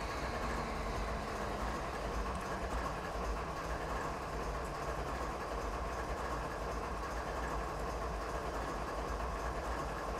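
A heavy Norfolk Southern coal freight train hauled by an ES44AC locomotive rolls along in a train simulator, a loud, steady rumble of engine and rail noise throughout with no talking.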